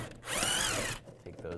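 A power tool with a 7 mm socket spins out a bumper bolt in the wheel well of a 2015-2020 Cadillac Escalade, one whirring burst of under a second, close and loud.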